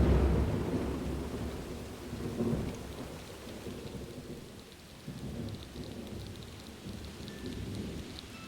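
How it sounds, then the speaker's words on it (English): Heavy rain pouring steadily outdoors with a low rumble of thunder underneath, a dense continuous hiss that swells and eases slightly, with no voices. "look at the rain. It's pouring."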